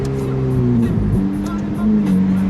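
A Ferrari 488 drives along in a low gear with its engine purring in a steady, smooth drone. The engine tone shifts slightly partway through and stays prominent and close throughout.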